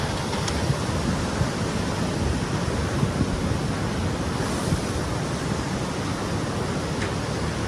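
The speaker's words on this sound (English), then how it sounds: "Look at all those waves in the distance" Ocean surf and distant tsunami waves churn in a steady, dense wash of broadband roar with wind buffeting the microphone, continuous and unbroken throughout.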